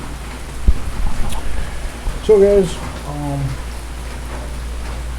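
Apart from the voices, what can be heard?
heavy rain at night in Bohol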